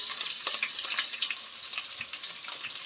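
Curry leaves and chillies crackle and sizzle in about three spoonfuls of hot oil for tempering, a steady dense frying hiss with small pops, close and alone with no voices.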